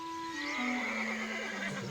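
A horse, a stallion in a wild herd, gives a loud, close neigh that rises and then falls in a long wavering whinny, heard alone.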